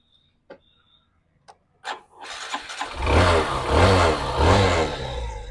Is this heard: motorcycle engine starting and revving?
yes